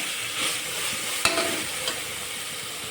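Vegetables for veg biryani sautéing in a pan, a steady bright sizzle with a sharp clink of a spoon near the middle and a softer scrape after, no voices.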